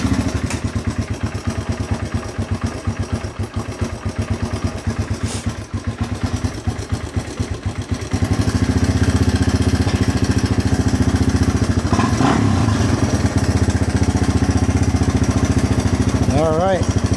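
Honda XR200R dirt bike engine running steadily close by with a choke-assisted idle, getting louder and rougher after about eight seconds, a rapid low throbbing pulse throughout; a voice speaks briefly over it.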